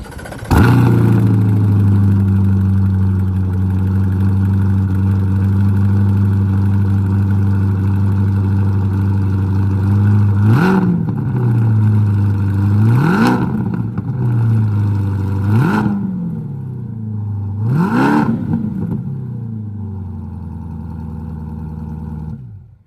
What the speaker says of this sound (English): That AWE exhaust sounds good, man.